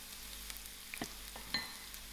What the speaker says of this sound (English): I'm going to add in my onions and allow this to come to the soft fry.